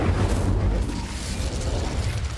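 Incendio fire spell cast in Hogwarts Legacy, a loud, dense roaring burst of flame that fills the short clip with a continuous rumbling whoosh.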